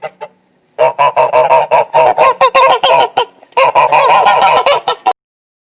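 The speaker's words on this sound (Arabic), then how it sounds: "وزة." Geese honk loudly and close by in rapid, repeated bursts, with one brief pause before another quick run of harsh calls.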